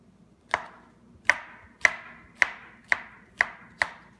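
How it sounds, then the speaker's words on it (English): A knife slicing halved baby bella mushrooms on a board, seven crisp, evenly spaced cuts close up in a quiet kitchen with no talking. "my mushrooms, just cut them in half and then slice them"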